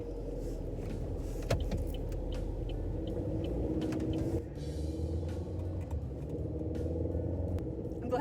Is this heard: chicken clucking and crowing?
no